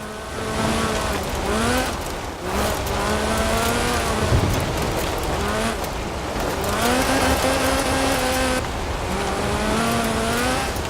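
A rear-wheel drive hatchback with a Lotus 2.2-litre slant four-cylinder engine in Forza Horizon 4, loud and close, its engine note climbing repeatedly through gear changes with brief dips between, with no talking.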